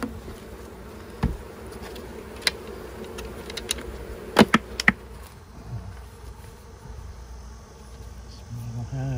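Honey bees buzz steadily around an opened long Langstroth hive, a dense close drone broken by a few sharp clicks and knocks of hive handling and faint voices.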